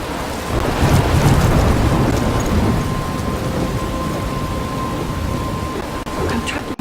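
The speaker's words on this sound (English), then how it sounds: "I'm trapped in a storm?" A thunderstorm in Life Is Strange: steady loud rain pours with a rolling rumble of thunder underneath, a constant dense wash of sound throughout.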